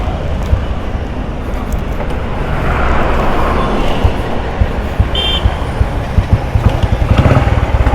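Motorcycle engine running steadily throughout, a loud continuous rumble with slight swells in intensity.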